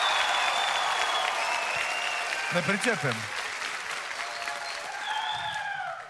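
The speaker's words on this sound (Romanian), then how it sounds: "Aplauze!" Audience applause at a stand-up comedy show, steady dense clapping filling the room, with a voice speaking briefly partway through and cheers rising over the clapping.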